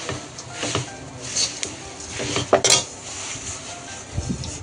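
Fried poha (flattened rice) being stirred in a pan over a medium flame, with irregular scrapes and metallic clinks of a spoon against the pan, fairly close and loud, in bursts.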